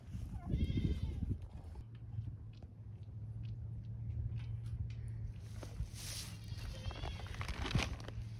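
A goat on a farm gives a low, wavering bleat near the start, then fainter bleats later over a steady low rumble and rustling background noise.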